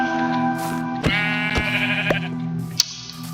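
A Minecraft sheep bleats in a long wavering tone, close and clear, punctuated by sharp hitting thuds and clicks from the game.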